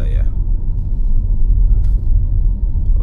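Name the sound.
quiet BYD Sealion 7 cabin with only AC sound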